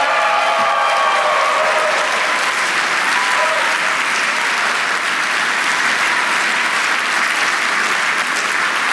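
Sustained, loud audience applause at the close of an evening program, a dense, even wash of clapping filling the whole span with faint crowd murmur beneath.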